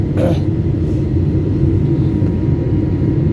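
A steady, heavy low rumble fills an airplane cabin in flight just after takeoff from Kathmandu, droning evenly without a break.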